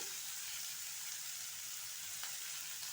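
Pumpkin pieces cooking in a pan on low heat, a soft, even, continuous sizzle held steady throughout, with no voices over it.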